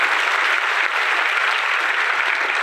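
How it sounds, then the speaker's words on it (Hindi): Loud, steady applause from an audience at an IMC network marketing business event, dense clapping sustained evenly throughout without a break. "आईएमसी के लिए एक बार जबरदस्त ताली बजाएं"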